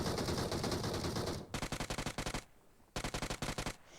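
Automatic gunfire in the mobile battle royale game BGMI comes in rapid, loud bursts, one long stream followed by two quick volleys of evenly spaced shots with short silent gaps between.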